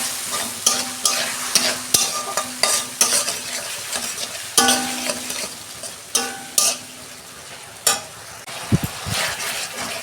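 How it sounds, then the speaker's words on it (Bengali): Ginger garlic paste sautés in a pan after fried onions, crackling and sizzling loudly up close while a spatula scrapes and stirs in a steady series of strokes, with a few knocks against the pan near the end and no speech. "আদা রসুনটা কষানো হয়ে গেছে,"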